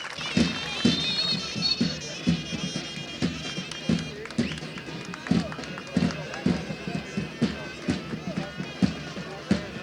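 A crowd claps in a steady unison beat for traditional Turkish wrestlers at an outdoor wrestling event in Burhaniye, with an announcer's voice carrying over the regular claps.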